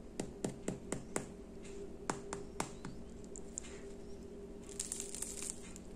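Crackling crust of a gluten-free baguette being squeezed, a quick series of sharp, crisp snaps close up, then a pause, a few more distinct cracks, and a softer rustling crinkle at the end.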